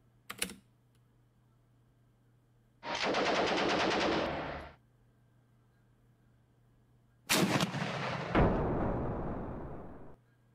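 In the tank game Armoured Commander II, firing comes as a quick single crack and then two long bursts of rapid fire, each lasting a couple of seconds, loud and close, with quiet gaps between them.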